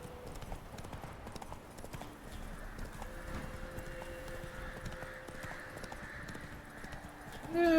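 A horse's hooves clip-clop at a steady trotting rhythm in The Witcher 3, quiet and continuous over faint game ambience, with a brief louder sound at the very end.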